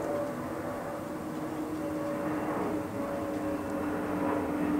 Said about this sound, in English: Just gonna wait for this plane to go over.